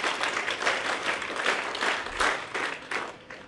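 Audience applause at a session gathering, a steady dense wash of many hands clapping that swells and holds for several seconds, with no talk over it.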